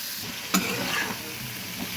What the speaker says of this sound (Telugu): ఇప్పుడు వంకాయ ముక్కలు వేద్దాం